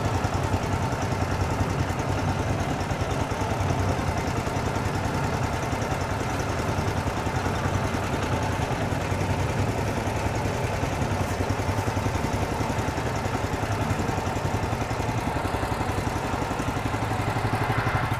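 A Honda 13 hp petrol walk-behind tractor running at low revs, a steady close chugging and clattering idle that holds even and unchanging the whole time with no talk.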